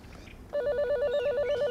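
A 1979 mobile phone system gives an electronic warbling tone after a misdialed number, rapidly pulsing and repeating at an even rhythm, close and clear after a brief quiet lead-in, with no talking.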